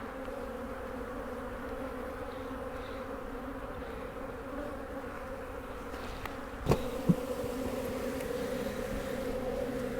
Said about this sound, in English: Lots of bees in the air.